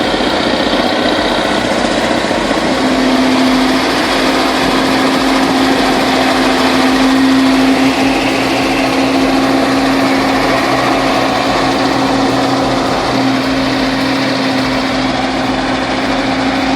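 A bulldozer engine runs steadily throughout, a continuous loud mechanical drone with a sustained tonal hum and no talk.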